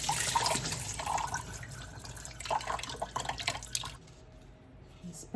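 Water drains from a sprouting jar, splashing and trickling loudly for several seconds before tapering to a quieter dribble with a few last drips.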